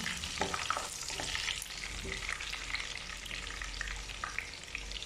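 Garlic fries in a pan for beef igado, a loud, continuous close sizzle with crackling pops and occasional stirring scrapes throughout.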